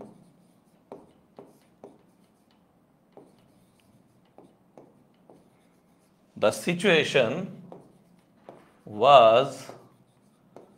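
Someone hand-writes an example sentence, making short, soft scratchy strokes in an irregular rhythm. A person speaks briefly partway through.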